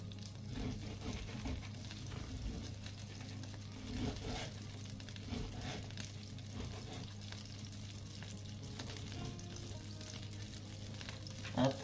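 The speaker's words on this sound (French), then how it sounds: "Hop, le beurre commence à fondre." Butter melting in a pan, a faint, steady sizzle with light crackling and a low hum beneath, soft and continuous with a small knock at the very end.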